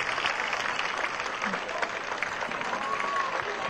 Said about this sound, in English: that'll get another round of applause from the crowd here at Laval Stadium